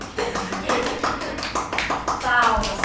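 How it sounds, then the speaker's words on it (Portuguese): A few members of a production crew clap in an uneven patter while voices talk over it. "A produção tá batendo palmas."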